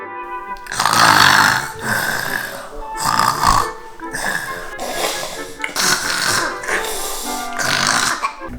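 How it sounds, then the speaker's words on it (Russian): Loud, exaggerated snoring by a sleeping boy at night, a series of rough, pig-like rattling snores in quick succession, close and dominant throughout. "Эй, хватит храпеть,"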